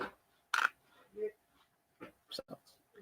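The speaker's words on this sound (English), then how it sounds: "I'm sorry, ladies and gentlemen, for Rosa's incessant barking" A dog barks in a sharp burst indoors during a talk show, with people speaking around and between the barks.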